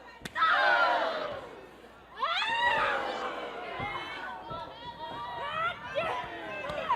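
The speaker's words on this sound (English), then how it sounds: "And you can hear the crowd. They are enjoying the slugfest that is going on." A wrestling crowd at an FSW women's match roars and shouts during a strike exchange, loud excited yells and cheers rising in bursts, with a commentator's voice running over it.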